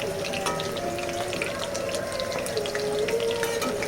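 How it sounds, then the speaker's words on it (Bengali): Chicken pakoras fry in hot oil in a home kitchen, giving a steady close sizzle with crackling pops throughout. "তো এখন আমার পকোড়াগুলো ভাজা হয়ে গেছে লাল লাল করে, এবার আমি তুলে দিই।"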